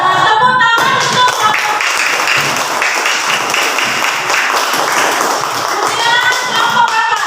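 Classroom applause for a student group: a loud, dense burst of many hands clapping that carries on steadily for several seconds, with voices briefly audible at the start and end.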